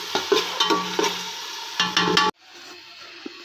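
Onion frying in a pan, stirred with a few sharp scraping strokes over a loud sizzle, then cutting off abruptly to near silence with one faint tap near the end.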